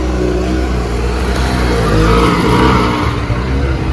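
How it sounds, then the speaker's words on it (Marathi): An auto-rickshaw pulling away outdoors, its engine droning steadily at close range and swelling briefly as it drives off, with no talk. "आमची ऑटो निघाली."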